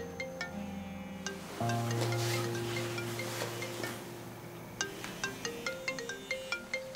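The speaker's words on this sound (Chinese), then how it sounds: "对不起，我接个电话。" A mobile phone ringtone plays a quiet melodic sequence of sustained tones. Short plucked notes follow it, with no talk over it.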